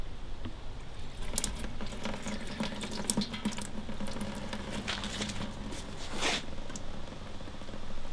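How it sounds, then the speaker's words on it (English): Water pouring into a mead fermenting vessel, a steady rushing, splashing flow that runs continuously throughout with some bubbling and clatter, fairly close and without speech. "I'm just going to fill this up with some water"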